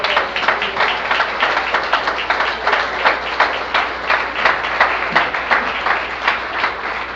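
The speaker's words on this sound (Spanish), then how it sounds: "Denle un fuerte aplauso." A church congregation claps steadily through a teaching session, the applause dense and rhythmic with close individual claps and slight swells.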